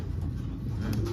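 A pigeon, one of a group of Janssen-line racing pigeons, gives a low soft coo, close by and brief, with no talk over it.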